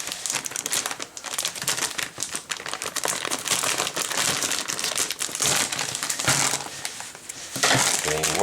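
Packaging of a Thermaltake ToughPower XT 775W power supply being cut and pulled open with scissors, giving a continuous rustle of crinkling plastic and cardboard with scraping and tearing, close and fairly loud throughout.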